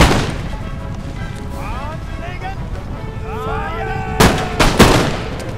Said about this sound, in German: Ja, die schießen einfach schon.